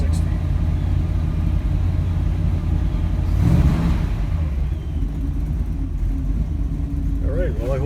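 A 1948 Mercury coupe engine idles at a steady, close low rumble, rising briefly in a rev around the midpoint and settling back, with faint voice-like sounds near the end.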